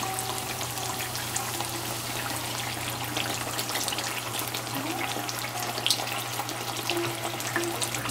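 Eggplant fritters, batter-coated brinjal slices, frying in hot oil after being turned to the other side, giving a steady close hiss and bubbling crackle throughout with no speech.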